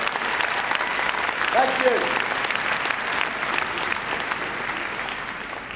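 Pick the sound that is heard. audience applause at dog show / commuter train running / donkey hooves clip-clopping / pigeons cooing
audience applause at dog show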